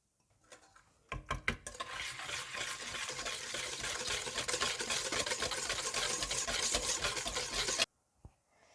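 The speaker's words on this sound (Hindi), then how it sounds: "इसके बाद इसमें सार क्रीम और कॉफ़ी डालकर अच्छी तरह से मिला लें।" Coffee cake batter being mixed with sour cream and coffee, a steady scraping and clinking of a utensil against a bowl running continuously for several seconds after a few louder knocks, then stopping abruptly.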